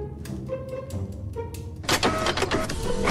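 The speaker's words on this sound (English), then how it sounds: "Okay, printer again." Printer in a Fortnite Creative game, first faint mechanical clicks and short whirs, then a louder burst of rapid buzzing, chattering printing sound near the end.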